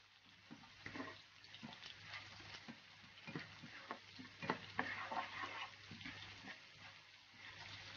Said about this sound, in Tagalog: isutay mo yung garlic at saka onion